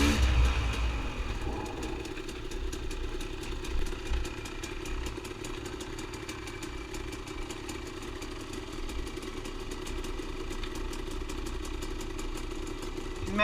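A motorcycle engine, out on a December trail ride at Emma Long, idles with a steady rumble that swells briefly in places, close by and continuous for the whole stretch.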